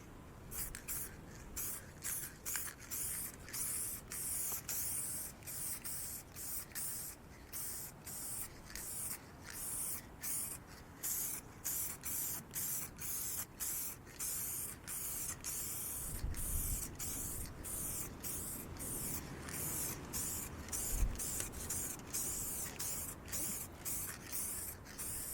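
A spray gun applies top coat to a Skoda Fabia bonnet during restoration, producing repeated hissing bursts in a steady rhythm of short passes with brief gaps between them, close and continuous.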